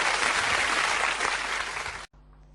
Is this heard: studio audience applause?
yes